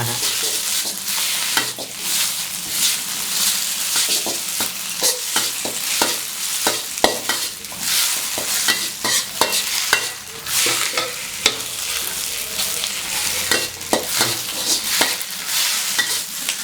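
Loud sizzling in a hot iron wok with rapid, irregular scraping and tossing as noodles are stir-fried for Thai seafood noodles, continuous and close.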